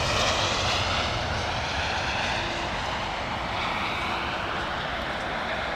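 British Airways Boeing 777 jet arriving in heavy rain, a steady broad roar with hiss that stays loud and constant for the whole span, no clear approach or fade; no talk.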